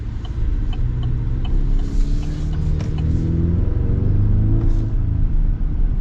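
A 2025 GMC Sierra 1500 PRO pickup truck's engine pulls hard under acceleration, a loud, steady low rumble heard from inside the cab with rising harmonic tones and no talking.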